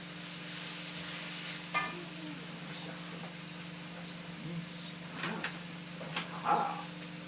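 Garlic and rice sizzle softly in a pan for a chicken and tarragon risotto, a low steady frying hiss with a few faint utensil knocks and ticks over a constant background hum.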